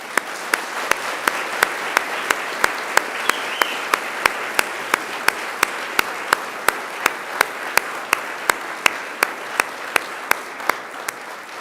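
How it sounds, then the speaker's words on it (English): Graduates at a Macquarie University graduation ceremony applaud their families and friends, a broad steady roar of many hands with a sharp, regular clap or tap cutting through about every third of a second. "And now it's time to give them a mighty round of applause."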